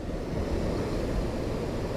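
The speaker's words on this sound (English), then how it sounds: "Just these big powerful waves" Big, powerful ocean waves crash and surge against jagged rocks below an exposed camping spot on Aranmore Island, Donegal, making a loud, continuous roar of surf with wind noise on the microphone and no pause throughout.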